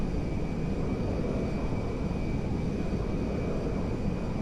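Boeing 747 Dreamlifter in GTA 5 flying over an airport, a steady dense jet engine roar with a constant high whine, loud and unbroken throughout, no talk.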